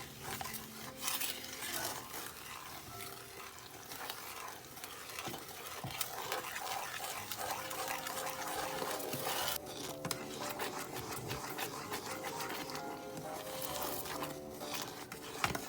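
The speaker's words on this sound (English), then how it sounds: "I'm just gonna stir this up good." A dark brown sugar fudge mixture for maple pecan fudge is stirred steadily in a heavy-bottomed pan, giving continuous scraping and soft bubbling sizzle for the whole stretch, with no talking.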